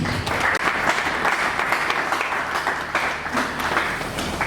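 An audience claps and cheers at a theatre group's third anniversary celebration, with dense, sustained applause filling the room throughout.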